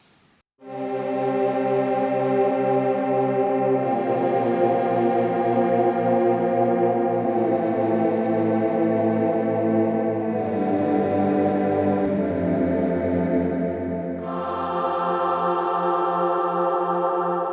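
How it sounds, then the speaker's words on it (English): A Behringer Wave synthesizer choir preset sustains a slow sequence of chords, swirling with chorus and echo, loud and continuous with no voices speaking. "this is obviously a choir sound, or alien invasion choir"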